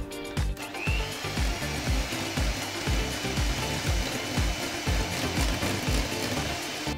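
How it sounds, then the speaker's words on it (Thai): An electric mixer whips cream for mango panna cotta, a steady motor whir with rhythmic clattering beats as the beaters knock against the bowl, close and loud throughout. "เรามาตีวิปปิ้งครีมกันนะคะใส่วิปปิ้งครีมลงไปเลยนะคะ"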